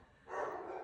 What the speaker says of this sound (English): I apologize about the dogs barking.